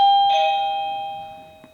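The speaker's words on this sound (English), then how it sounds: "Sorry about the doorbell." A single electronic doorbell chime rings out clearly, then its tone slowly fades away in a quiet room.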